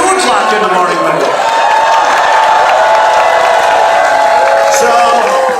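A large, dense political rally crowd in Texas cheers and applauds without a break, a loud, steady roar with whoops and shouts rising over it, and voices ringing out near and far.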